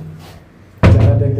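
A sudden heavy house door slam, loud and close, following a moment of low background murmur, with a brief reverberant rumble afterward.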